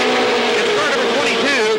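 Race cars roaring around the oval at Salem Speedway during a 1987 heat race, engine pitch rising and falling continuously under a loud announcer calling the action.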